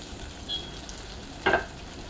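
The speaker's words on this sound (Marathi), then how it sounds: "आपण हे एक टोमॅटो बारीक चिरून घेतलेला आहे ते यामध्ये घालणार आहोत" Finely chopped tomato dropped into golden fried onions in hot oil sets off a brief, sharp sizzle burst over a low background hiss.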